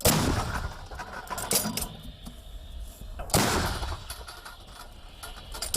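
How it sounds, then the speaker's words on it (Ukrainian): Two loud, sharp blasts of artillery fire, one early and one midway, each followed by a rumbling decay against a quiet outdoor background. "Постріл!"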